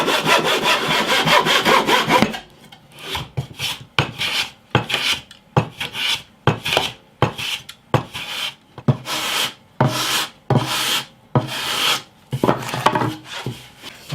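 Hand saw cutting through fence wood to remove a knot for a guitar neck, rhythmic back-and-forth rasping strokes, close and loud, about a dozen even pulls after an initial continuous stretch.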